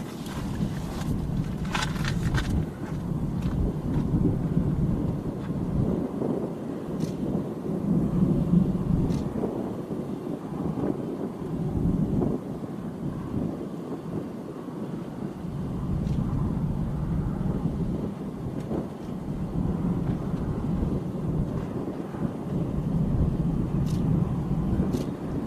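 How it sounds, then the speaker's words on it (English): Low rumbling thunder rolls on and off through a Texas storm during tornado chasing, a steady broad low-frequency roar mixed with what sounds like a car idling or wind nearby, with no talking. "Hear that thunder?"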